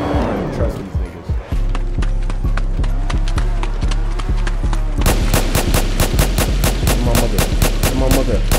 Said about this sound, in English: I'm shooting your block up